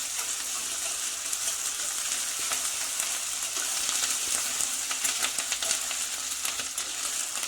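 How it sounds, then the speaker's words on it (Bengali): Ginger and spices fry in a pan for muri ghonto, a steady close hiss and sizzle with faint crackles and stirring scrapes throughout, no voices. "আদাটাও দিয়ে দিচ্ছি, দিয়ে এটা আমি একসঙ্গে ভালোভাবে কষবো।"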